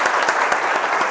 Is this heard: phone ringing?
no